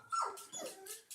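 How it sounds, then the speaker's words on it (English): Dogs bark and yelp indoors in a quick burst of a few short, sharp calls, one sliding into a whine, fairly close and alone without talk. "sorry about the dogs"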